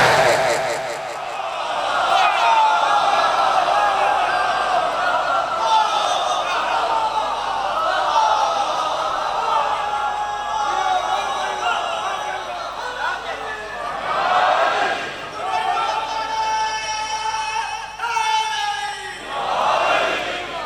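A large crowd of men at a religious majlis in an imambargah chant a slogan together in loud, sustained, rising shouts that surge and fall, with one lead voice cutting through.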